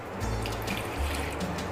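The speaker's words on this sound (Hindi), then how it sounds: "1 कप पानी का ऐड करेंगे हम इसमें।" One cup of water poured into simmering kadhi, a continuous close splashing rush of liquid for under two seconds.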